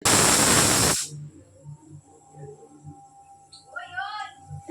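A pressure cooker cooking chicken soup lets out a loud burst of hissing steam for about a second, then cuts off, leaving a quiet room with faint talk afterward.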